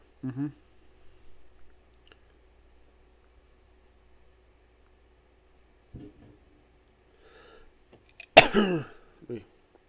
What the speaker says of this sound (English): that's a weak cough